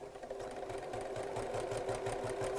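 Sewing machine running steadily as it stitches rows of gathering into fabric, a fast even mechanical chatter close up with no talking.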